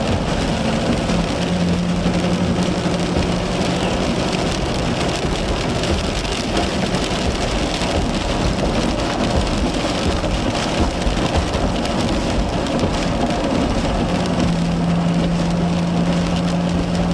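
Heavy, steady rain pouring during a severe thunderstorm near Highway 81 in southwest Oklahoma, a loud continuous roar with rumbling thunder underneath throughout.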